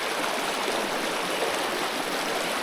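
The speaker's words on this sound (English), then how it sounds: "There's a little creek running in there." A small creek runs steadily, swollen from recent rain, giving a continuous, close rushing and babbling of water with no breaks or other sounds.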